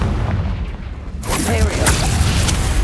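A Confringo spell explosion in the video game Hogwarts Legacy: a loud, booming blast with a whooshing burst partway through, layered over continuous dense game noise.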